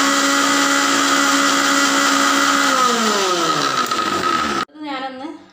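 A mixer grinder blends mayonnaise ingredients with a loud, steady whine. The motor pitch then drops as it winds down and cuts off, followed by brief softer handling sounds.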